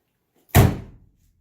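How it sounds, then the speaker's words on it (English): A Ford Mustang door swung open in a garage, a single firm thunk with a short rattling decay, close and loud, with no talk over it. "go open my doors right now."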